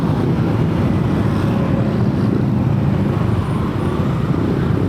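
A motorcycle, fresh from an oil change, rides through traffic with its engine held around 4,000 to 5,000 RPM, a constant loud low rumble blended with road noise and wind buffeting, close and unbroken, with no talking.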